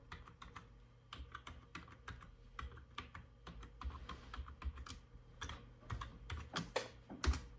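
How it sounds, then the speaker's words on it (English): Keys clatter on a computer keyboard as a username and password are entered at an Ubuntu command-line login, a quiet, steady run of fast close clicks lasting several seconds with no voice over it. "So then type your username of your computer, enter password,"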